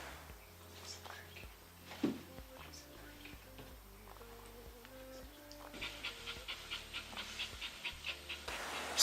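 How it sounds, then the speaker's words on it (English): A dog on a mountain expedition in the Western Cape pants faintly, the quick rhythmic breaths growing clearer in the last few seconds over a low background hum and tonal music. "I knew he was a special dog"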